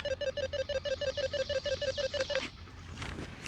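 A dog training e-collar's continuous tone plays through an audio box as a rapid, evenly pulsed ringing beep that repeats for about two and a half seconds, then stops, leaving faint background noise.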